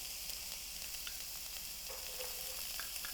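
Celery and onion frying together in a pan for brown rice paella, giving a continuous close sizzle with faint stirring clicks and no speech.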